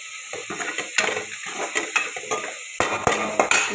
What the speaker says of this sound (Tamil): தேங்காய் போட்டு சிம்மிலே வச்சு தேங்காய் நல்லா அப்படியே ட்ரை ஆகிற வரைக்கும் வதக்கணுங்க.